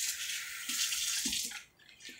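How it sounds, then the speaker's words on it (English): Water runs from a tap in a kitchen for a moment to wet crab rangoon wrapper edges, a close hiss that cuts off and then resumes briefly. "A little dab of water."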